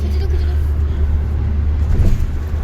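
A car cruising along a highway on a trip toward Beas, heard from inside as a steady, loud low rumble of engine and road noise with no pauses.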